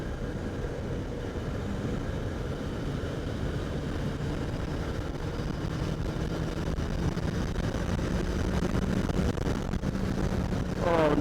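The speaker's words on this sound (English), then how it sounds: "It's just engine noise." Steady motorcycle engine drone with road rumble throughout, a continuous hum while riding that swells slightly near the end as the revs climb.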